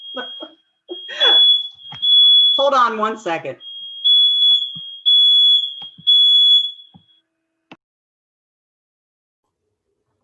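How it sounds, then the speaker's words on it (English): A household smoke-type fire alarm going off with a steady, piercing high-pitched tone in repeated bursts, loud and close, while a person briefly speaks over it before it stops. "Excuse me, that's my fire alarm."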